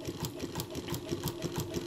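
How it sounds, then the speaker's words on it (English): A Mauzer chain stitch embroidery machine stitching with Mauzer silk rayon floss, a steady rapid mechanical rhythm of repeating clatter heard up close with no talk. "So I'm using the Mauzer regular chain stitch machine and Mauzer silk"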